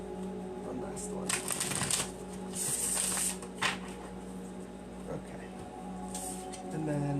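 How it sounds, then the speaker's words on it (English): A smooth, stiff paper-stock card deck is shuffled repeatedly, giving soft riffling bursts over steady low background hum, with brief pauses between shuffles. "I love this deck for the way that it shuffles."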